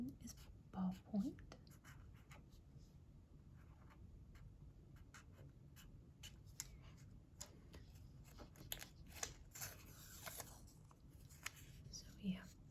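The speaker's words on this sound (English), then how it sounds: "So let me write these out really quick." A ballpoint pen scratches across paper at a desk in short, quiet strokes with small taps, close and intimate in a hushed room, with soft whispered talk between the strokes.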